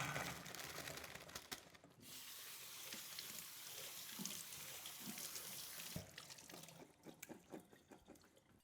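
Mini baby potatoes are rinsed under a running kitchen tap, a steady hiss of water splashing into the sink for several seconds, then the flow cuts off and a few scattered clunks and wet handling sounds follow, with no voices.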